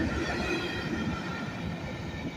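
A long Norfolk Southern freight train passing at night, a steady rumbling roar of wheels and cars rolling past without pause, moderately loud, with no talk.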